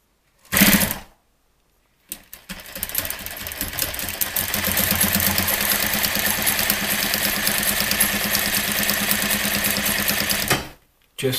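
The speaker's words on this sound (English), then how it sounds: "I'm just going to sew it about 1/8 inch" A sewing machine stitches a drapery heading in one long, steady run of rapid mechanical whirring, with short bursts before and after and brief silences between them.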